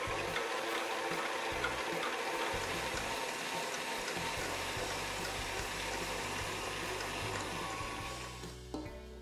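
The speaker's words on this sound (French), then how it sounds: "Lorsque la crème est bien montée, qu'elle est bien ferme, j'arrête le batteur." An electric hand mixer whips cold cream in a bowl until firm, a dense steady whirring and churning that stays loud throughout before easing off near the end, with no speech.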